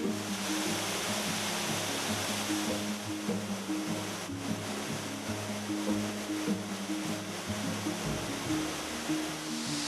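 Water rushes continuously with a broad, echoing hiss inside a cave in Switzerland, a steady flow from a spring that fills the space with no breaks.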